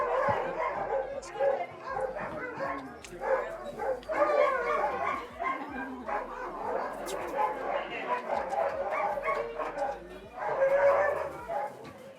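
Sled dogs at a musher camp in Skagway, Alaska, bark, yip and whimper continuously right after being let out. The chorus of many dogs is close and lively, with people talking over it.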